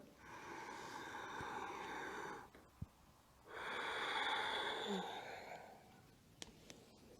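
A slow yoga breathing cycle: a long, airy inhale, a brief pause, then a long, full exhale, close and steady with no talking, followed by a couple of soft clicks.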